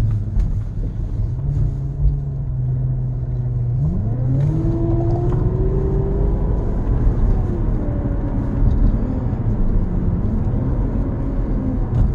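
A car engine of about 400 horsepower hums low, then the revs climb as it accelerates into a sustained, rising drone with road rumble underneath.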